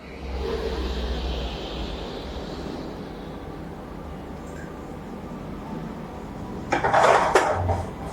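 Chicken sausage curry sautéing in a pan, with a steady low background of cooking noise and a burst of metallic pan and utensil clatter near the end.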